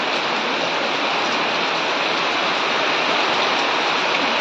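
Heavy monsoon rain near a river pours down in a dense, loud, unbroken roar, a constant wash of drops with no pauses throughout.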